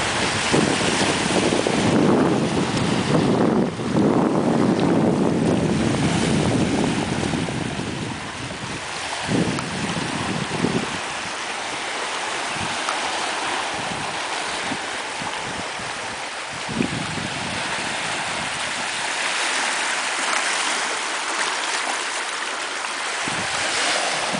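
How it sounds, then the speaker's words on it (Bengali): Small, gentle Pacific Ocean waves wash onto a beach in Okinawa, a soft continuous surf with rough wind buffeting that is heavier at first, then calmer, with occasional light thumps. "জাপানের মাটিতে প্রশান্ত মহাসাগরের ঢেউ বলে কথা"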